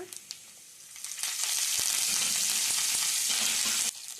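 Cumin seeds and curry leaves hit hot oil and burst into a loud, steady sizzle after a few light clinks, crackling close up for several seconds before cutting off abruptly.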